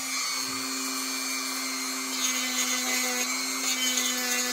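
A Dremel 4300 rotary tool smooths lines and ridges on a workpiece with a loud, steady high-pitched whine, close up and continuous, its pitch dipping slightly as it bites into the surface.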